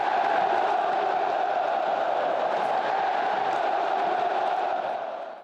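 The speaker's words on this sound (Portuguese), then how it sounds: "E a torcida já está soltando o grito." A big football crowd at a Flamengo home game roars and chants together, a broad steady wall of voices that holds at one level for several seconds and then fades away at the end.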